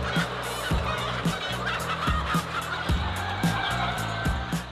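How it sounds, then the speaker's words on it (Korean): White silkie chickens cluck in a poultry house holding tens of thousands of birds, with loud, rhythmic, repeated clucks and honking calls over a constant flock murmur. "수만 마리의 닭이 모여 있는 축사."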